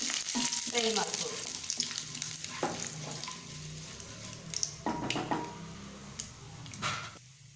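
Urad dal, chana dal and curry leaves fry in hot oil, a soft sizzle under a few clinks and knocks of a spoon against the pan, fading toward the end.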